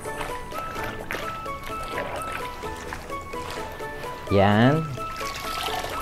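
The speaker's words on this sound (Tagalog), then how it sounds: "eto, binabanlaw na natin." Water sloshing and pouring as a barong tagalog is rinsed by hand in a basin, a steady splashing that continues under a brief spoken word.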